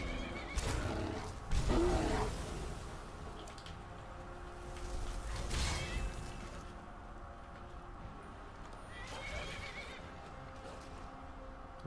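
Horse in the video game Skyrim giving a couple of loud whinnies over clip-clop hooves and outdoor ambience, with a fainter neigh later; no talk.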